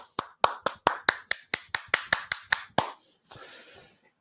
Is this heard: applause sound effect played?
yes